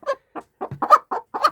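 A small young hen that has just started laying clucks in a short run of close, distinct bursts, about six clucks in under two seconds, with no talking.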